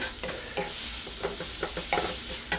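Ground beef frying in a pan for beef burritos, a constant sizzle broken by repeated scraping strokes of a spoon stirring the meat, close up.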